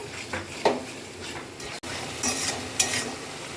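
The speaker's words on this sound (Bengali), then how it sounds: "এবার আমি একটু ফেটিয়ে নেওয়া দই সামান্য 1 চামচ, বড় চামচের 1 চামচ দইকে আমি দিয়ে দিচ্ছি। এটাকে দিয়ে একটুখানি কষিয়ে নেব।" Masala sautéing in oil with a spoonful of whisked yogurt, heard as a close sizzle with a spoon scraping and stirring the pan in uneven strokes and a few metallic clinks, no talking.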